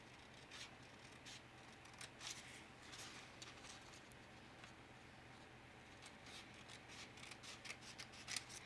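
Scissors snip steadily through a photo being trimmed, a quiet close series of short crisp cuts with light rubbing of paper between them, no talking.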